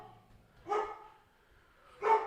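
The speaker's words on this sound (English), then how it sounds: "And my dog is now barking super loudly" A dog barks twice indoors, two loud separate bursts about a second and a half apart, with quiet between them.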